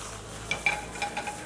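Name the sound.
seared rabbit pieces rolled back and forth in a frying pan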